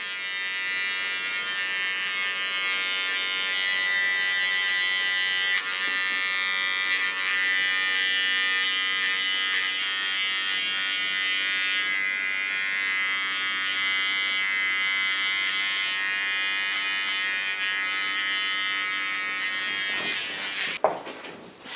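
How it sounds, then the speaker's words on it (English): A small electric hair clipper hums continuously and close by as it cleans up the contour line during an asymmetric haircut, a steady buzzing drone that holds evenly for about twenty seconds before a brief clatter at the end. "Onto my small clipper, clean the contour line, get rid of the woolly hairs."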